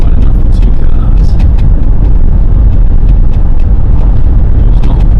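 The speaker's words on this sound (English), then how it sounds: "You can hear everything rattling in the back of the car." Loose items rattle and clatter in the back of a car driven over a rough, narrow South Australian road, a loud continuous rumble of road and wind noise with scattered sharp knocks throughout.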